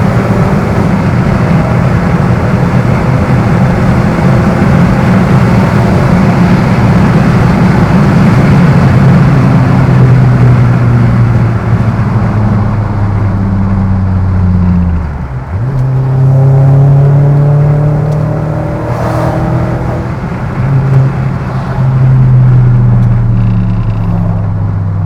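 A Seat Leon Cupra R 1.8t engine drones steadily as the car accelerates, its tone climbing toward 6,000 RPM, easing after a gear change and then pulling up again. It is loud and continuous, heard from inside the car.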